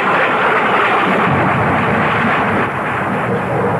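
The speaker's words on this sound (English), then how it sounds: "the thunder continued to grumble menacingly" Continuous rolling thunder in a stormy radio drama scene, a loud broadband rumble that grumbles steadily throughout with no voices.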